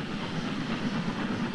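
C11 steam locomotive train running on the Aizu Line, a loud, steady rumbling roar of moving rail cars heard close and continuous for the whole short stretch.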